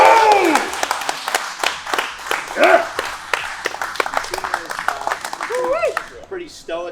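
Small group in a gym applauding a deadlifter, rhythmic clapping with whoops and cheering voices, lively and close, with people shouting over it.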